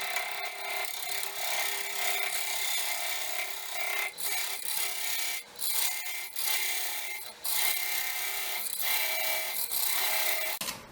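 Hand sawing through a box elder wood bowl, with a steady run of loud, rasping back-and-forth strokes broken by short pauses, close up and without talk.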